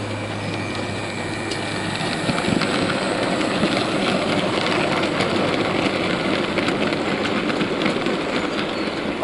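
A model GER Class N7 locomotive hauling eight wagons and a brake van rolls steadily along the track, a continuous loud rumble with faint rhythmic clicking from the wheels and rail joints.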